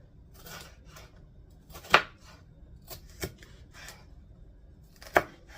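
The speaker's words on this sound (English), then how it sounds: "we're going to chop all of these just like this in strips" A kitchen knife slicing small peppers into strips on a cutting board, a series of irregular close knocks and crisp cuts, a few louder chops standing out over soft slicing sounds.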